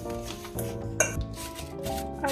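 Sugar and cinnamon are stirred together in a bowl, with a spoon scraping and clinking against the sides in a steady, close, moderately loud rhythm, with no voices.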